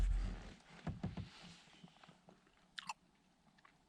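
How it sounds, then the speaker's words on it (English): Real beef jerky is chewed close up during a kayak outing, with crunchy bites and moist chewing in an irregular rhythm that fades to quieter mastication, plus a brief sharp scrape near the end. "And the kind of stuff you can really chew for a long time."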